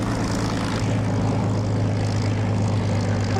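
A propeller aircraft engine in the DCS flight simulator drones steadily with a strong low hum and a dense broadband roar, constant and close throughout.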